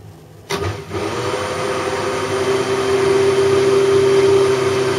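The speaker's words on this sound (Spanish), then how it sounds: "pasaremos la leche con el café al vaso de la batidora y volveremos a batir" A blender mixing milk and coffee whirs steadily and loudly after a sudden start, its pitch holding even as it keeps running.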